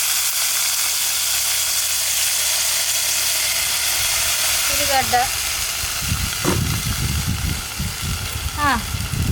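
Coriander seeds, cumin and onion frying in a pan, a continuous close sizzle with someone talking over it and other voices and clatter later on.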